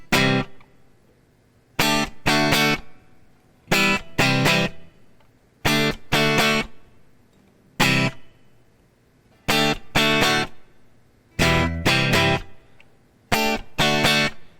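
Distorted electric guitar strums the chorus chords of a song in short repeated bursts separated by brief silences, loud and rhythmic.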